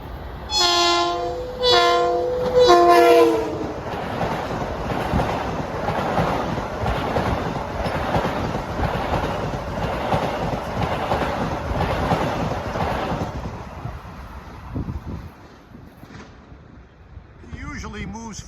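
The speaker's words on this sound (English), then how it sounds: "Here comes a train that normally goes fast through here." An LIRR train bound for Ronkonkoma passes on the Main Line near Bethpage and Hicksville, opening with loud horn blasts and then a long steady roar of wheels that fades after about thirteen seconds. Outdoor wind buffets the microphone throughout.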